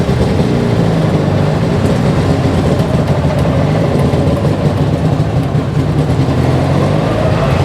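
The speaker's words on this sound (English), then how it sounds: "well, this is the tuk-tuk." A tuk-tuk engine runs during a ride through Chiang Mai back alleys, a loud, continuous rumbling drone with rattling road noise that stays close and steady throughout, no voices heard.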